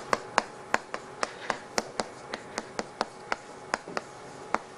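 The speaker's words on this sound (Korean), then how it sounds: "박수 치다 is clap." Steady hand claps from one person, roughly twenty crisp slaps spaced evenly, close-up and soft against a quiet room, no talking.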